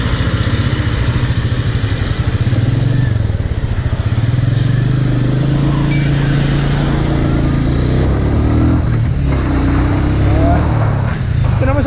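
A 350cc Royal Enfield motorcycle with a bobber look thumps loudly and steadily up close, its engine rising and settling, while someone talks over it throughout.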